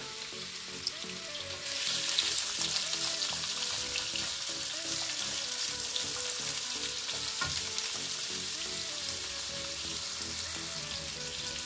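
Carrots fry in a hot pan for jalapeños en escabeche, with a steady dense sizzle and crackle that swells after a moment and stays loud throughout, stirred occasionally, with no talking.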